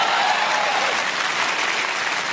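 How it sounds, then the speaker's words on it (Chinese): Dense, steady applause from a theater audience at a comedy sketch (xiaopin) performance, filling the whole stretch at an even, loud level with no break. "就这样仍然坚持鼓掌。"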